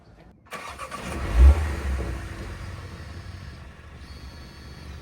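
A 2024 Mini Cooper S F66 starting up, with a quick crank, a brief throaty rev and a subdued, fairly quiet exhaust note settling into a steady idle, close by.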